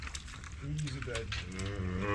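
A cow stuck in mud lets out a long, drawn-out moo that swells toward the end, close and fairly loud over outdoor background noise, with a person talking nearby.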